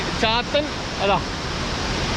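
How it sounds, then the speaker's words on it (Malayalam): Pappani waterfall in Idukki roars as a steady, dense rush during rain, close and unbroken from start to end, while someone speaks briefly over the water. "ഈ വെള്ളച്ചാട്ടത്തിൻ്റെ പേരാണ് പാപ്പാനി വെള്ളച്ചാട്ടം"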